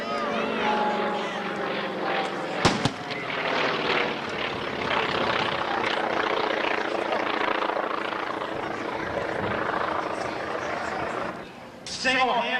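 A Beechcraft C-45 twin-engine aircraft flies at an air show, preparing to drop parachute jumpers. A steady propeller and engine drone carries through the whole stretch, with a sharp bang partway in and faint crowd noise.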